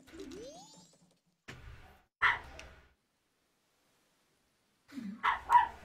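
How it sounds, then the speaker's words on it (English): Short synthesized dog barks from the video game The Legend of Zelda: Majora's Mask, a few separate bursts with pauses of silence between, fairly faint, with a rising tone at the start. "I don't know what he's barking at."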